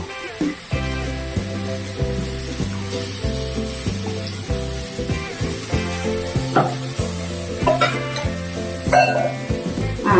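Chicken sizzles and crackles in a hot pan while background music with a repeating bass line plays throughout.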